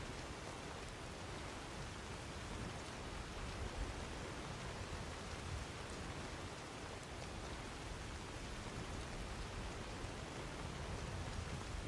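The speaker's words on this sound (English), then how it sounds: "It's pissing down with rain." Heavy rain pours down in the video game Skyrim, a steady, soft hiss of rainfall that stays even and unbroken throughout, with no voices.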